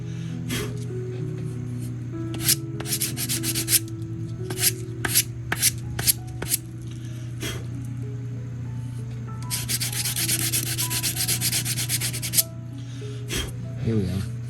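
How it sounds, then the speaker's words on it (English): Sandpaper rubs over a small part for a 1:400 scale model of the S.S. Edmund Fitzgerald, giving a run of short scratchy strokes and then a longer, denser burst of sanding over a steady low background hum. "Where's the sandpaper? I want to just clean this up just a bit."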